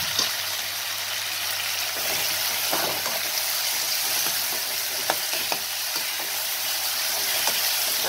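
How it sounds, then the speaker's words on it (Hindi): Chopped tomatoes frying with browned onions in a pan give a continuous close sizzle and crackle, with scattered sharp pops and light stirring scrapes throughout. "टमाटर को जब तक आप थोड़ा सा फ्राई कीजिए"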